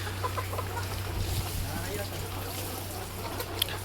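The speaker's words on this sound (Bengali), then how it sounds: "মুরগিগুলি যথেষ্ট ভালো এবং ভালো অবস্থায় আছে।" About 5,500 hens are kept in a poultry farm shed. Their dense, ongoing clucking murmur sits over a steady electrical hum, with people talking nearby.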